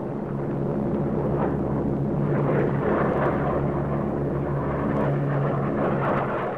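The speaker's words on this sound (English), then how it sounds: "A mainstay of Marine Corps air operations in Vietnam is the KC-130," Propeller engines of a KC-130 Hercules tanker aircraft, a Marine Corps plane in Vietnam, roar as a loud, steady drone with a constant low hum, continuous throughout with no voices.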